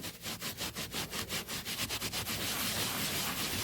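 Rhythmic back-and-forth brushing of a carpet spot soaked with nail polish remover, about a dozen quick scrubbing strokes close up, then a continuous rough scrubbing hiss.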